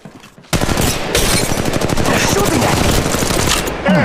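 Rapid automatic gunfire bursts out in the Apex Legends Mobile shooter game after a brief quiet start, with dense, loud, continuous cracking shots and a player's voice talking underneath.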